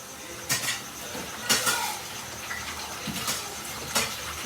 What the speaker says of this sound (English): so I'm just going to quickly wash it and dry it